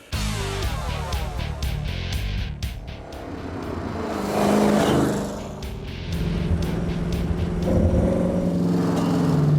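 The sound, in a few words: traditional Model A hot rod driving off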